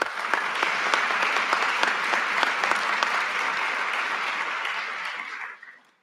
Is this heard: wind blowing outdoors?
no